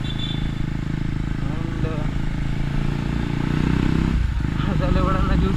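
A KTM Duke 250 with a modified exhaust idles with a steady, close engine beat that rises slightly in loudness toward the end, while someone talks over it.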